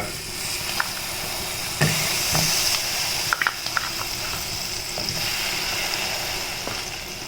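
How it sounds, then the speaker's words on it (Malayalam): Two spoons of butter melting in a frying pan for shahi paneer, giving a steady soft sizzle and hiss with a few small pops and clicks, close by and continuous, with no talking. "ആദ്യമേ നമ്മൾ ഒരു ഫ്രൈ പാൻ എടുത്തിട്ട് അതിൽ 2 സ്പൂൺ ബട്ടർ ഇടുക."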